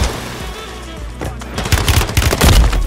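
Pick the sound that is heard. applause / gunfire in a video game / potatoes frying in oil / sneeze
gunfire in a video game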